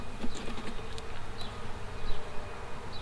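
Honeybees buzzing around an open hive during a spring hive check, a dense, steady hum close to the microphone with individual bees droning past.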